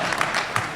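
Brief burst of audience applause at a convention panel, a dense wash of clapping with a few louder peaks, heard alone for under a second.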